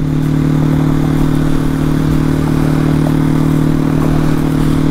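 Small single-cylinder 250 cc engine of a Janus Halcyon motorcycle held at high RPM while riding, giving a loud, steady, continuous drone with low harmonic hum and wind rush, no voices.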